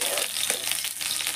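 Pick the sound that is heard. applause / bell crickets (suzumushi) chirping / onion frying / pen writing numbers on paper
onion frying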